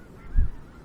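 A single snow goose honk rings out once, moderately close, over a quiet outdoor background at Freezeout Lake, Montana.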